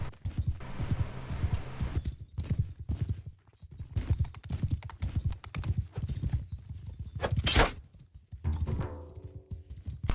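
Horse hooves galloping in the video game Mount & Blade II: Bannerlord during a skirmish match, rapid rhythmic clip-clops running throughout with a sharp whinny-like burst near the end.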